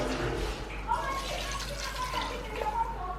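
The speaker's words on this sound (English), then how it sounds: "like putting a little water" Water is poured into a cooking pot of soup on the stove, giving a steady, soft splashing trickle that runs throughout, with faint voices in the background.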